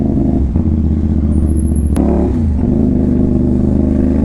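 Motorcycle with a quick shifter installed, 450SR, revving and shifting with a brief sharp cut near the middle, steady loud engine drone throughout.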